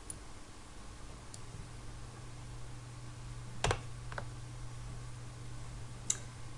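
A few isolated computer keyboard keystrokes, including a Ctrl+Z undo shortcut, sounding as faint, sparse clicks over a quiet room hiss, with no speech.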